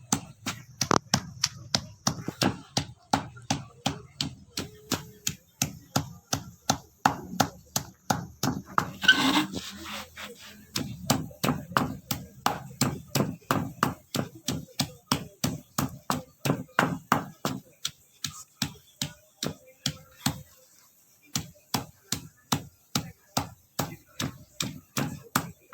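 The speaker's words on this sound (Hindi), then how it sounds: "इसको ना अच्छी तरह हम अब पीस लेना है इसको भी।" Mint chutney is ground by hand in a steady rhythm of rapid repeated knocks and rubbing strokes, close and regular, with a short pause near the end.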